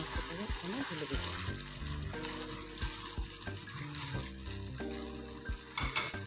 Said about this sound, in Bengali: এই পর্যায়ে আমি মাংসটাকে এখানে ঢেলে দেব।